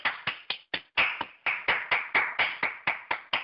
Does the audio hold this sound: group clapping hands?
yes